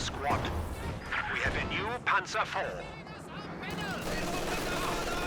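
A loud cannon shot from a T-34 tank in Company of Heroes 2 lands with a sharp crash amid battle noise, with a commentator talking excitedly over it.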